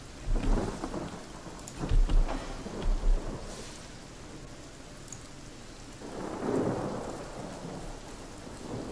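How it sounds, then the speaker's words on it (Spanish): Steady rain pours across a rainy scene in the video game Divinity: Original Sin, with rolls of thunder rumbling low and loud near the start, then fading into constant hiss before another deep rumble swells. "Lluvia, como siempre."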